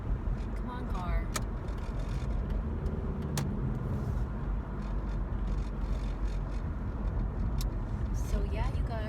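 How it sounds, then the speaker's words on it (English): A car driving and merging into traffic, with a steady road and engine rumble throughout and a few brief higher clicks and tones, while a person talks over it. "Oh, wow, okay, I need to merge. Come on, car."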